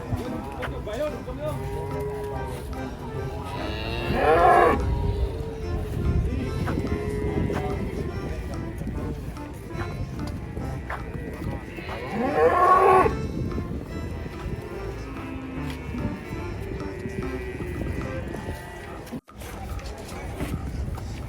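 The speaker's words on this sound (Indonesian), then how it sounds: "Ini proses muat sapi, guys." Cattle moo loudly twice while being loaded onto a truck, amid a busy background of voices, clatter and rumbling, the calls rising over steady chatter.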